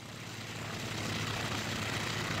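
WWI-era propeller aircraft engines in the combat flight game IL-2 Sturmovik: Flying Circus drone in a steady, dense roar that holds constant throughout, with no voices over it.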